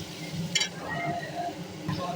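A paste of ground mustard, poppy seed and green chilli fries in hot oil with soft sizzling and stirring, broken by a couple of brief clinks, while a person talks over it.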